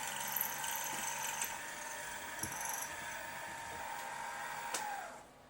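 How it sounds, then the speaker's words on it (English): A drill bores holes in a part for a 2-inch scale Fowler showman's traction engine, giving a steady whirring, faintly ratcheting mechanical whine with small clicks and knocks before it winds down at the end. "Right, that's both holes drilled in there."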